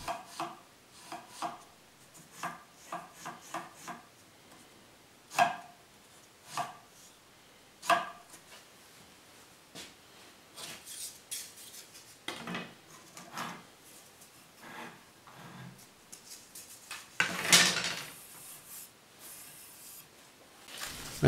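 A wooden slider on a Renaissance positive pipe organ windchest being pulled and pushed, giving scattered sharp wooden clicks and sliding scrapes at irregular intervals, close and fairly quiet, with a louder rasp near the end.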